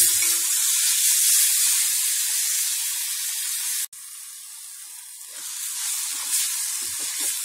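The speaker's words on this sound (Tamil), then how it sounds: "பூண்டு, சாரி, வெங்காயம், பச்சை மிளகா, இஞ்சி, கருவேப்பிலை, கொத்தமல்லி எல்லாத்தையும் போட்டு நல்லா வதக்கிடலாம்." Garlic, onion, green chili, ginger, curry leaves and coriander sautéing in a pan, giving a steady close sizzle that dips sharply for a moment near the middle, then resumes with faint clinks of stirring.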